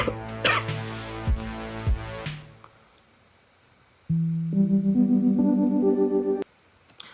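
Several harsh, close coughs in quick succession, then quiet, followed by a run of steady electronic tones.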